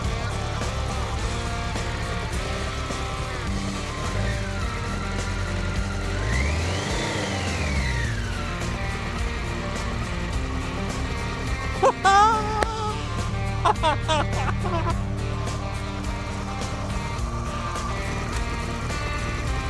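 A BMW K100 motorcycle engine, running again after sitting since 2007, idles steadily and revs up and down in rising and falling sweeps, loud and close, with occasional clanks.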